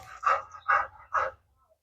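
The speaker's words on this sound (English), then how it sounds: "Dogs." Dogs give three sharp, evenly spaced barks close by in a quiet indoor space, followed by silence.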